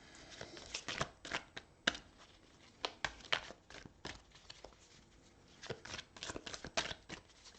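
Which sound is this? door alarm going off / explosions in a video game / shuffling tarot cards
shuffling tarot cards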